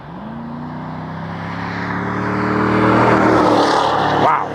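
A Summit White 2010 Camaro SS drives past, its V8 engine rising into a loud, swelling roar as it approaches and climbs through the revs, then cutting off abruptly as it goes by.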